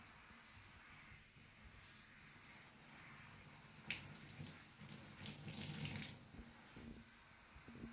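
Water spraying and splashing steadily from a pumped temporary campervan shower, a continuous hiss that swells louder for a couple of seconds midway.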